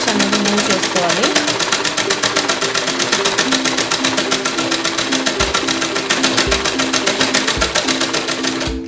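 A normal domestic sewing machine runs an overlock-style stitch, whirring loudly and steadily with a rapid, even needle rhythm that continues throughout, close up and alone.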